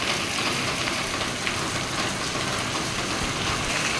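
Steady, continuous rain after days of downpour makes a dense, even hiss of drops that runs unbroken and fairly loud throughout.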